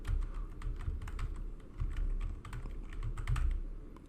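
Keystrokes clatter on a computer keyboard as a Django create-superuser command is typed, an irregular run of close, crisp clicks over a steady low background hum with no talk.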